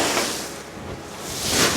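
Open-sea waves wash around a sailboat far from land in calm conditions, a broad steady rush that swells toward the end, with faint wind noise and no talking.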